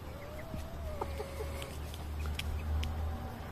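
Chickens and a red rooster on a poultry farm give scattered clucks and short calls over a steady low outdoor rumble, moderately distant, with no talk.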